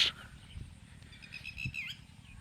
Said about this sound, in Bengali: টিয়া পাখি, তাই না? হ্যাঁ, এক কথায় অসাধারণ। কি চমৎকার ডাক তার!